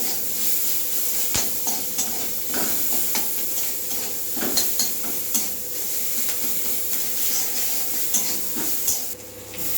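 Ginger garlic paste, green chili and salt frying in a pan for a shukto curry, with a continuous hissing sizzle, repeated spoon scrapes and occasional clinks against the metal as the mixture is stirred, heard close with no talking.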